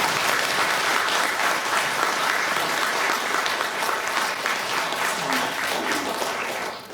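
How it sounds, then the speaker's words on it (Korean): A church congregation claps steadily for its pastor at a thirtieth-anniversary thanksgiving service, with dense, sustained applause filling the room at full strength throughout and easing only slightly at the very end. "우리 전성철 목사님 격려하는 마음으로 박수 한번 해주시면 됩니다"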